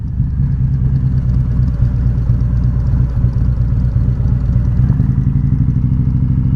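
Motorcycles at Laconia Bike Week 2021 in New Hampshire: a steady, low engine rumble of idling and slowly moving bikes that holds at an even level throughout, with no voices.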